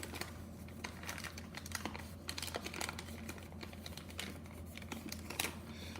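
Paper being creased into origami koi scales with alternating mountain and valley folds, quiet close tapping and crinkling in an irregular rhythm, faint and without talk.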